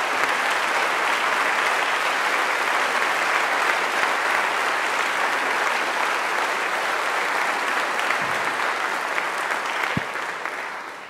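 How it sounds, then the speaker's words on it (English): A civic audience gives sustained applause for chiefs and elected officials at a public panel on homelessness in Victoria, BC, a broad, steady roar of many clapping hands that tapers slightly at the end. "please give a round of applause to these folks who work very hard on your behalf every day"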